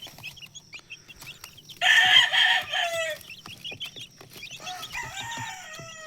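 Bulik gamecock roosters crowing and clucking, one loud crow rising over a busy run of clucks and chatter from several birds nearby, with no talk.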